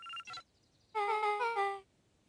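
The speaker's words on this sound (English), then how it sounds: "Luca cracked his knuckles and entered the letters into the keypad." Keypad entry in Beacon Pines: a short electronic beep sequence, then a bright, melodic chime of stacked tones lasting just under a second, clear and isolated against silence.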